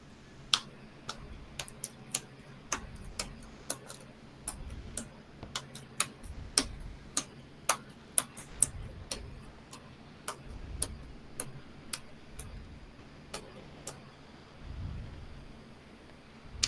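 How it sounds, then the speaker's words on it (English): A deck of Magic the Gathering cards is shuffled in a series of sharp, quick snaps and riffles spread across the whole stretch, close and moderately loud with a low room murmur beneath. "If I could see you shuffle your deck"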